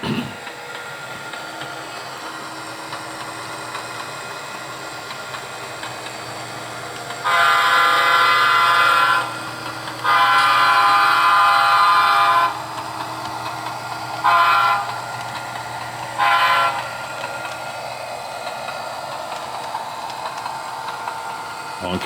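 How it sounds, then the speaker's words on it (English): Locomotive horn blasting while hauling hopper cars near Huntington Beach: two long honks followed by two short toots, loud over a low rumble of the train moving. "Honking for the vagrants,"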